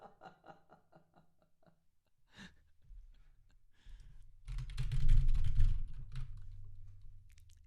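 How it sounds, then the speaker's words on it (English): Fast, forceful clacking on a computer keyboard comes in a quick burst of clicks, followed by louder, heavier thumps and rustling as the aggressive typing continues. "He's so aggressive with the typing."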